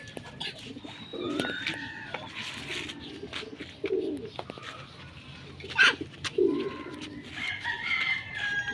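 Domestic pigeons cooing in a loft, soft low coos and brief bird calls spread across the clip over quiet background noise, with a couple of closer, louder notes.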